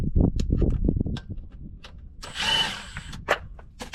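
A power tool whirs briefly as it backs out a transmission pan screw on a 2023 Chevy Colorado, with a short buzzing burst mid-clip between clanks and handling noises, close up.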